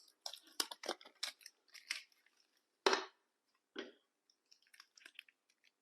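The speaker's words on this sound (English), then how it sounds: "I can just peel the painter's tape off this, and that glue that was on it comes right off" Painter's tape peels off a wooden reference block in a woodworking shop, a series of short, close, crackly rips and tears with gaps between them, one sharper pull standing out midway.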